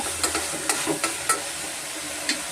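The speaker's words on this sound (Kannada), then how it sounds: "ಮೆಂತ್ಯ ಟೊಮೆಟೊ ಸ್ವಲ್ಪ ಉಪ್ಪು ಹಾಕ್ಕೊಂಡು ಸ್ವಲ್ಪ ನಾನು ಫ್ರೈ ಮಾಡ್ಕೊತಾ ಇದ್ದೀನಿ ಈಗ" Tomato, fenugreek and salt fry in a pan with a soft continuous sizzle, broken by a few sharp scraping stir strokes spaced irregularly, close by and with no talking.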